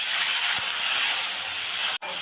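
Water poured into a hot pan of fried spice paste with slit green chillies, for a Bengali fish dish, sizzles and hisses loudly and steadily, then cuts out sharply for a moment near the end before resuming.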